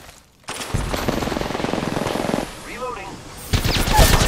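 Rapid automatic gunfire in the shooter game Apex Legends, loud sustained bursts of shots from a Havoc rifle with a brief pause and another volley at the end.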